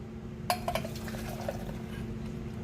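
Cooked blueberry gelato base poured back into a bowl, with a sharp clink at the start, a few small taps, and a soft liquid pour trailing off, all quiet and close.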